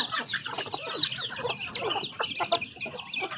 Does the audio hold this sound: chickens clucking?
yes